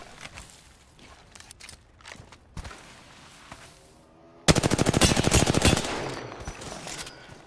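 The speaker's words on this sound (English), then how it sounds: "I'm spotted, taking fire." Gunfire in the Apex Legends video game: scattered single shots and footsteps, then a sudden loud burst of rapid automatic fire lasting about two seconds, followed by fading echoes and softer sounds.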